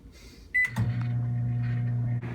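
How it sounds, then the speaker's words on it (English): Microwave oven heating a cup of stir-fry Cup Noodles on high: a door clunk and beep, then a steady low electric hum running close and alone until a brief change at the end. "So we're going to bring this over to the microwave, and it says to microwave it for 4 minutes on high."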